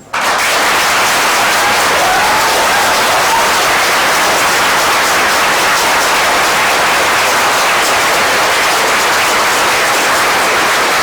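Audience applause at a county board meeting, a steady, dense wash of clapping that fills the room for about eleven seconds without letting up.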